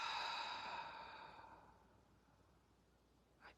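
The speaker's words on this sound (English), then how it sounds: "a deep, slow breath out" A deep, slow exhale during a guided breathing exercise, one long breath out that is loudest at the start and fades over about a second and a half, close and soft, followed by quiet and a brief faint sound near the end.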